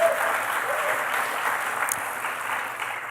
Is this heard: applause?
yes